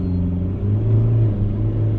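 A 2021 Ford Endeavour with the 2.0 engine idles and revs toward 2000–3000 RPM, a low, steady engine rumble heard up close that swells slightly in the middle and carries no talk.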